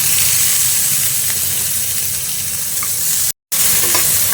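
Prawns frying in a pan with a mustard-poppy paste, green chillies and oil, a loud continuous sizzle with occasional stirring, broken by one short silent gap, no talking.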